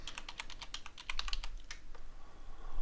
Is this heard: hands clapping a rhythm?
no